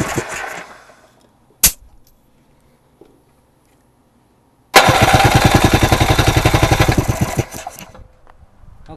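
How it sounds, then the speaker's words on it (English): A Fuji 500 twin engine from a 1986 Polaris Indy 500 snowmobile, CDI with oil injection and dual carbs, fires up on electric start after a couple of brief cranks and then runs with a loud, steady, rapid pulsing idle before dropping off. "this is a Fuji 500 engine out of an 86 Indy 500"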